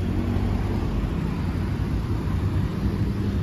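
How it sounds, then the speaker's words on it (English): Steady roadway noise from passing cars outside a fast-food restaurant in Cabot, Arkansas, a continuous low rumble and hiss with no distinct individual pass-bys, moderately loud and without talk. "Traffic."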